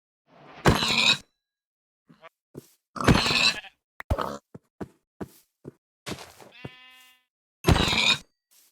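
Farm animals grunting and squealing in the Minecraft video game, several short loud calls spaced unevenly through the stretch, with one drawn-out wavering cry near the end.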